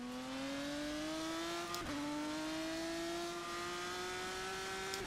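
A 2018 GP3 single-seater race car in the wet in rFactor 2, its engine holding a steady high whine that climbs slowly through the gears with a brief shift break, loud and close without talk.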